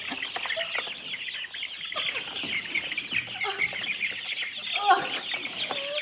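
Chickens clucking in a coop while a professional chicken catcher works among them, a dense, steady mix of clucks and squawks at moderate level with faint voices underneath.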